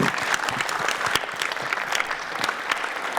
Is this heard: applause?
yes